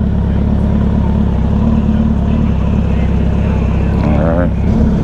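A KTM motorcycle engine running nearby, a loud, steady low rumble throughout, with voices talking over it.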